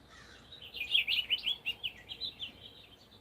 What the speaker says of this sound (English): There we get some bird song.